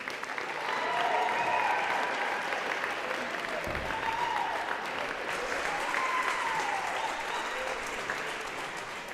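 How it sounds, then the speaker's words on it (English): A gym crowd at a senior night varsity girls basketball game applauds the senior players, with sustained clapping and some cheering that stays loud and even for the whole stretch. "One more round of applause for your Lady Seniors."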